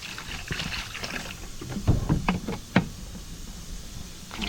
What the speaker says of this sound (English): Throw some more fresh water.